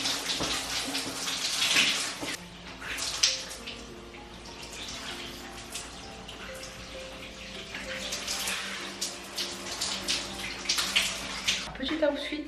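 Hot shower water running steadily in a bathroom, a continuous broadband hiss with splashing variations and occasional louder bursts, fairly close, with faint background voice.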